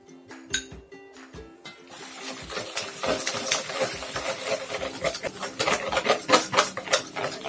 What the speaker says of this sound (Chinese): 一定要搅拌均匀